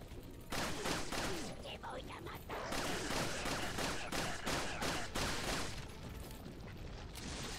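Rapid gunfire in the game Resident Evil 4, a loud run of quick bursts and impacts with brief gaps and some mechanical clatter mixed in.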